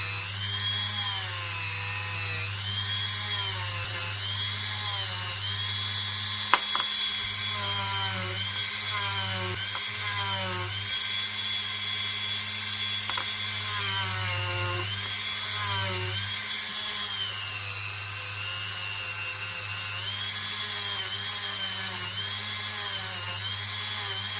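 A Dremel rotary tool buffs fire scale off a 1 Deutsche Mark coin being made into a ring, giving a steady, loud high-pitched whine that runs without a break, with small shifts in pitch as the tool presses on the metal.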